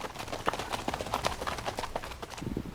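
Hooves of an Icelandic horse beat a quick, even clip-clop under a rider, at moderate distance with steady rhythm throughout, with no voices over it.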